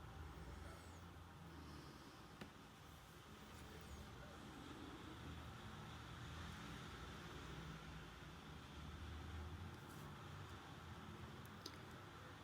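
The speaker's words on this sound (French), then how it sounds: "les voitures qui roulent dans la rue principale, on entend bien l'eau sous les pneus." Cars roll along a main street wet from rain, tyres hissing through water in a steady, continuous wash of traffic noise with a heavier vehicle rumbling in the low end.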